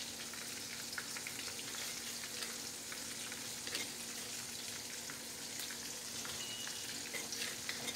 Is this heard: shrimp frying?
yes